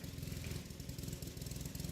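A recently repaired lawn mower engine running steadily outdoors, a continuous pulsing mid-pitched drone at moderate distance with no talking.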